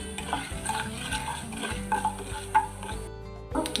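Chana dal and urad dal sizzle in hot oil for a raw mango rice tempering, a steady close frying crackle with scraping stirs of a spoon against the pan.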